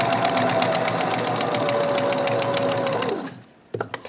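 A sewing machine stitches the waist hem of pajama pants in a fast, even, close chugging run for about three seconds. It then stops, followed by a couple of quick mechanical clicks.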